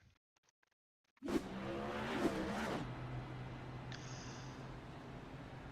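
Race car engine in a sim racing game at New Hampshire Speedway, silence then a sudden loud burst of revving as the car loops around, followed by a steady sustained engine drone with brief tire noise.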